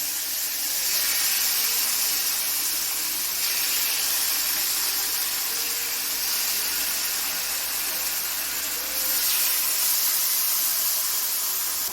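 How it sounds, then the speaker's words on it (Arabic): Shawarma meat sizzles in a very hot pan with a steady, loud, continuous hiss and spatter that holds evenly throughout, with no talking. "كده انا حاطه طاسه على النار لازم تكون سخنه جدا، وننزل بيها شاورما عشان تاخد الصدمه بتاعتها"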